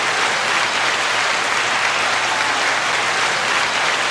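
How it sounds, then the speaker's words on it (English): Loud, dense applause pours out continuously, a steady wash of many hands clapping up close with no pauses or voices. "1 second applause and 9 second applause for that segment."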